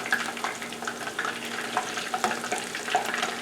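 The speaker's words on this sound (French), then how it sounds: "Le bouillonnement commence à baisser, alors c'est signe qu'ils sont pratiquement cuits." Chicken pieces deep-frying in hot oil give a steady close bubbling and crackling with scattered small pops, the boil gradually settling, no voices.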